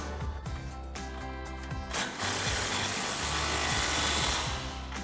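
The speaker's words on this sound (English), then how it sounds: "You can grab our impact with our 19mm socket and a 19mm wrench and tighten that down." An impact wrench with a 19mm socket tightening a nut on a Tacoma front suspension leveling kit, loud rapid hammering bursts in short runs with a whirring motor, close and sustained.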